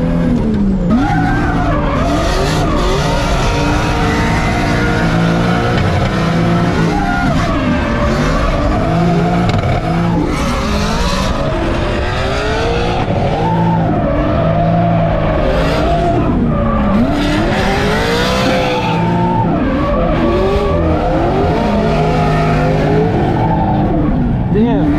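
A very fast car driven hard in Indiana, its engine roaring loudly and continuously while the tires squeal and skid through repeated slides.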